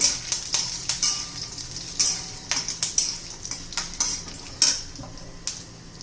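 Ingredients frying in a pan for a spicy bitter gourd masala, with repeated metal spoon scrapes and clinks from stirring over a steady background sizzle, close and fairly loud, no talking.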